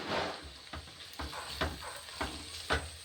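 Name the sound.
green chillies and curry leaves sautéing in a pan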